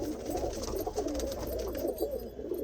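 A loft of racing pigeons keeps up a dense, continuous murmur of low cooing from many birds close together, steady and unbroken, with no voices.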